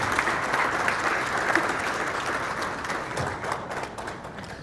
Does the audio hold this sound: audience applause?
yes